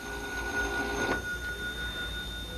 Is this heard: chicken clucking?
no